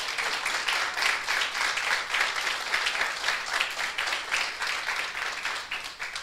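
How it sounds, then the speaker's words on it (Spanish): A church congregation applauds steadily and loudly during a sermon, dense clapping sustained throughout without a break. "Denle un aplauso al Señor"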